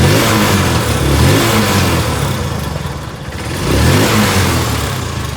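A car engine with a misfire revs hard and loud at a repair shop, surging in two strong swells and dipping briefly in between, with no one talking over it.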